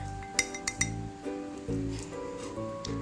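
A spoon clinks against a bowl while cocoa cookie dough is mixed, several sharp light taps followed by softer scraping knocks, close and alone.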